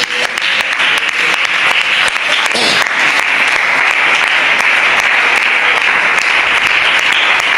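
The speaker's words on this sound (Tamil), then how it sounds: "கைகளை தட்டி, கைகளை தட்டி." A church congregation applauding during a sermon, loud, dense and sustained clapping from a large crowd, close and unbroken throughout.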